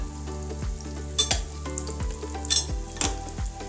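Chicken kheema kababs are dropped into hot oil and fry with a constant crackling sizzle, marked by several sharp splashes and clinks as pieces go in, close up with no talking.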